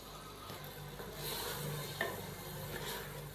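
Potatoes and peas stirred in a frying pan, with a soft steady sizzle under scraping strokes of a spoon and a few light clinks against the pan, close and quiet.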